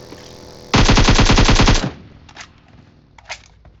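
Automatic gunfire in PUBG Mobile: a loud, rapid burst of about a second, followed by a few quieter, scattered shots.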